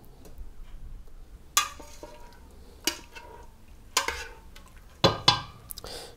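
A pot of feather dye is stirred while being brought to the boil, giving sharp scraping clatters at irregular intervals over a quiet simmering background.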